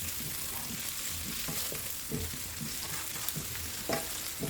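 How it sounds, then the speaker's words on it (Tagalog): Potatoes and carrots sautéing in a pan for chicken afritada, a steady close sizzle with scattered stirring scrapes and clinks running throughout, no voices. "At dahil matigas ang patatas at carrots, igisa na rin natin."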